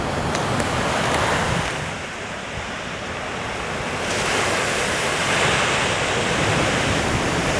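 Steady roar of sea waves washing against the shore at the westernmost point of Great Britain, with gusting wind buffeting the microphone throughout.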